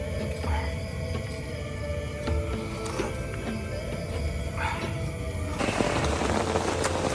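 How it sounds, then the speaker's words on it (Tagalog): Rain falls steadily at a campsite in Los Baños, Laguna, a dense continuous patter with a few brighter drips standing out, growing slightly heavier toward the end. "Umuulan."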